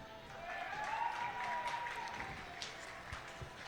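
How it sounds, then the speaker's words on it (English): A crowd at a national bouldering championship at the Monona Terrace in Madison, Wisconsin, cheers and claps for a women's qualifier, a faint, steady swell of applause in a large hall under commentary. "A lot of people cheering for her here today."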